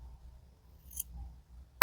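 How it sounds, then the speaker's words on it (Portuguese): Scissors snip through crochet yarn in a short, sharp cut near the end, after quiet handling noises at a crochet bag lesson. "Então, agora, vamos cortar o fio."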